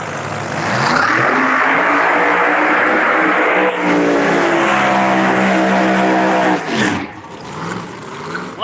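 A Pontiac Firebird drag race car's engine roars steadily and loudly at Darlington Dragway, a sustained high-revving drone that shifts pitch partway through before easing off near the end.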